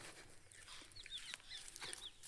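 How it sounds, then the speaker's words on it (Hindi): Several short, high chirping songbird calls ring out in village farm fields over a steady outdoor background hiss, scattered irregularly through the clip. "वो देखो उधर गीत गाने वाली चिड़िया है, आवाज़ कर रही है।"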